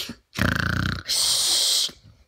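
A voice mimics snoring during a bedtime story read aloud for children, giving two drawn-out snore sounds back to back: a rough, rumbling inhale followed by a long, breathy hiss, both close and loud.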